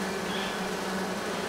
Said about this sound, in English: I think we have an angry bee here